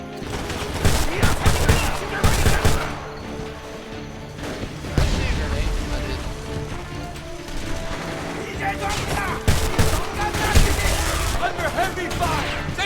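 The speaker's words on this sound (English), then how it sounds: "Under heavy fire!" Heavy gunfire in the video game Homefront, set in a labor camp: dense bursts of automatic fire and booms from sentry towers, loud and near, coming in waves, with voices shouting over the battle.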